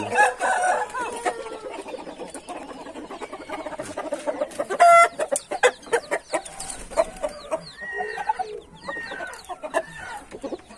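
Hens and roosters on a hot day cluck and call in a series of busy, overlapping bursts, with one sharp louder call near the middle, fairly close and with no talk.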